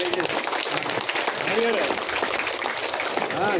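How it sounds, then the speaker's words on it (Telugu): Audience at a political gathering clapping steadily, a dense patter of applause running throughout with a voice speaking over it on a microphone. "అందరూ గట్టిగా క్లాప్స్ కొట్టాలండి"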